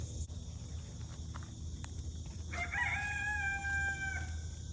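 A rooster crows once, clear and fairly near, on a farm, over a soft bed of insect chirping and faint rustling, with no voices present.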